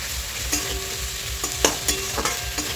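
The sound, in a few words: frying thinly sliced potatoes with spices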